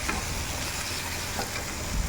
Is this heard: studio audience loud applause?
no